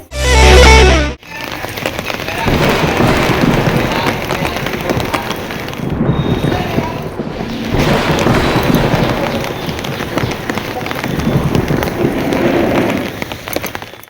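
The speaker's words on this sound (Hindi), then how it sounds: "लेकिन बारिश बंद ही नहीं हुई" Steady rain falling on a rainy day, a dense continuous patter on surfaces after a brief loud thump at the start, with a short dip midway before the downpour resumes.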